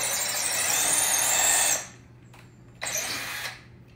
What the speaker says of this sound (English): All right, so pre-drilling holes.